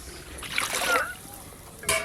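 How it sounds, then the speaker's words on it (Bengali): Water poured from a mug into a summer sherbet mixture of sugar and yogurt, a close splashing gush that lasts about half a second, then a brief second splash near the end, with soft background noise. "এবার আমি পরিমাণ মতো জল দিয়ে দেব"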